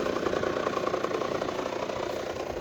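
Rieju RS3 motorcycle engine idling steadily close by, a continuous dense rumble with a fast vibrating, slightly knocking texture and no pauses.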